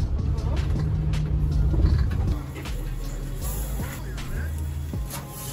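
Inside a moving shuttle, a steady low engine rumble and road noise carry throughout, with rattles and occasional clicks, and the rumble drops in level partway through.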